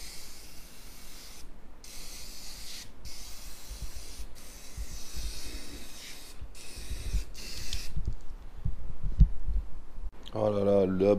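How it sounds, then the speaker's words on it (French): Aerosol cleaner hisses onto a motorcycle helmet in several steady bursts separated by brief gaps, close and fairly loud, followed by rubbing sounds and a short tonal noise at the end. "et on arrose."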